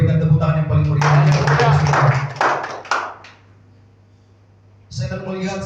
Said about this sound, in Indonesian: boleh berikan tepuk tangan yang paling meriah.